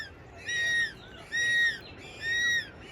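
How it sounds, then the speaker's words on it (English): Penguins along a coastal path near a Cape Town beach give three drawn-out, braying calls at a steady pace against a soft outdoor background. "along the path we run into some penguins"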